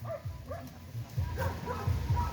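Several short, high yips and barks from a dog, spaced irregularly, with low muffled voices and background noise underneath.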